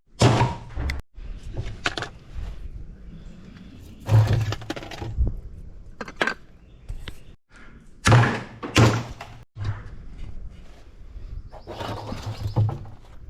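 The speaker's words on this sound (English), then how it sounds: "I'm gonna load that barrel right there." Scrap metal loaded into a metal barrel in a scrap yard, a series of loud close clanks, thuds and crashes at irregular intervals with brief quieter gaps between them.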